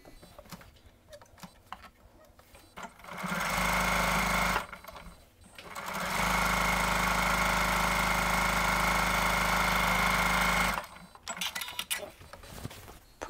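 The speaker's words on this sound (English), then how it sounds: "So I'm going to sew this on." A sewing machine stitches a log cabin quilt block strip in two runs, a steady close whirring hum with a brief pause between them and quiet handling noises before and after.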